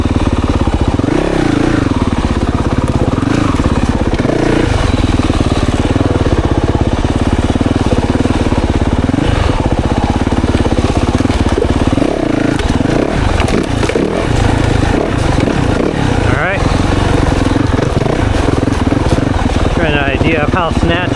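A 2024 Yamaha YZ 450FX dirt bike churns through a wooded trail, its engine loud and close throughout with rising and falling revs and clattering over rough ground, while a rider talks over it.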